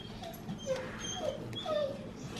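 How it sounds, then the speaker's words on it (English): A dog whimpers and cries in a series of thin, high whines rising and falling over a steady low room hum, fairly close and moderately loud, with no talking. "That's my dog crying."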